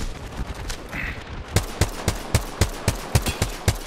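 Gunfire in the video game Apex Legends: a few scattered shots, then a rapid string of sharp, evenly spaced cracks, close and fairly loud.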